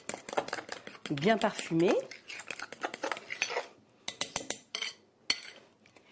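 A utensil stirs brownie batter with vanilla extract in a bowl, giving close, rhythmic scraping and clinking against the sides, with someone speaking briefly over the mixing.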